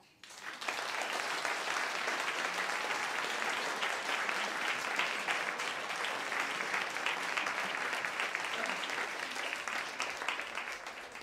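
Sustained applause from a large audience at a live speakeasy-style entertainment show, steady and full for over ten seconds without letting up.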